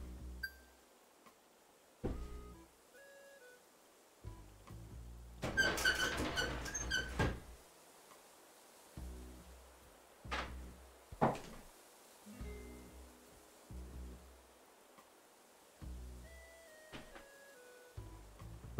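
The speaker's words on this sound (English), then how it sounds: "My window is loud and creaky." A loud, creaky window being shut in a quiet room, with several squeaking, scraping bursts and knocks spread over the span, one long rattling creak in the middle and sparse thuds between.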